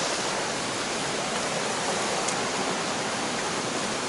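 A creek in the Smoky Mountains rushes past in a steady, full-bodied wash of flowing water, close and unbroken.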